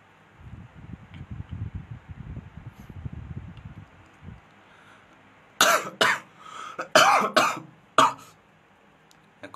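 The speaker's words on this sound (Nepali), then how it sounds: "खोकी लगाएर मर्न लाग्छु यहाँ," A man coughs hard several times in quick succession, loud and close, after a few seconds of soft rustling.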